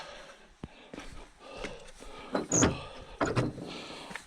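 A locked door is tried and rattled at night in a cemetery, with several sharp knocks and clunks of the handle and frame, close and fairly loud, and no talking.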